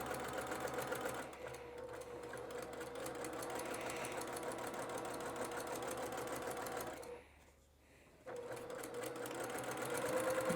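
A sewing machine runs steadily while stitching a curved patchwork seam, a close, fast mechanical whir that stops for about a second near the end and then starts again.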